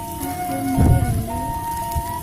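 Steady rain falls in an outdoor scene of a Sundanese comedy short film, a continuous patter with a brief heavier rumble near the middle, and no voices.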